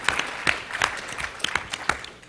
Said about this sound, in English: I'd really selfishly like to ask for a round of applause